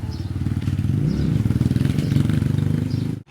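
A motorcycle engine revs close by with a loud rapid throbbing pulse that climbs and falls, then cuts off abruptly at the end.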